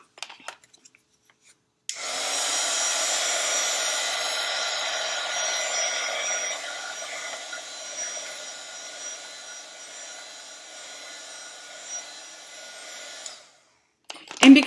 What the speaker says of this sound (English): I'll touch it real quickly with the heat gun.